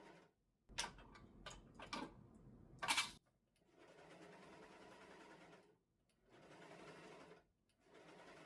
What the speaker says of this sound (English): We're gonna serge them because we're over here at the serger.